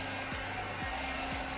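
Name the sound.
hot air styling brush with blow dryer fan running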